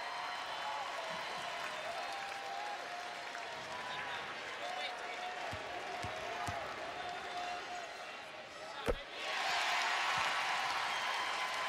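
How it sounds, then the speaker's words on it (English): Steady roar of a cheering crowd of Connecticut Sun fans at a WNBA playoff game in an arena, a sharp thud near the end followed by a swell of louder cheering, with announcer talk underneath. "The Sun fans celebrating."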